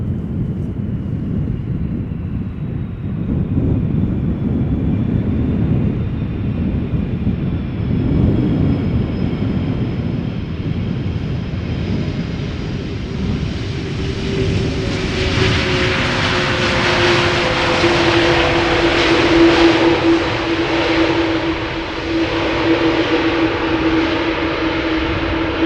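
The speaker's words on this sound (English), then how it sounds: "KLM flight 656, arriving from Minneapolis, Minnesota, having left from Minneapolis 7 hours and 18 minutes ago." A KLM airliner arriving at Amsterdam Schiphol after a flight from Minneapolis roars loudly overhead, its engine noise swelling with a rising whine as it passes close, continuous and dominant throughout.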